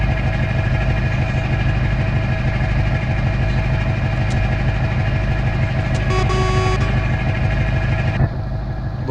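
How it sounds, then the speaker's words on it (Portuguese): DAF XF V8 truck in the Truckers of Europe 3 video game rumbles at a steady deep idle, loud and continuous, with a brief higher tone partway through and a slight drop near the end. "Nossa, que ronco que fizeram nesse caminhão"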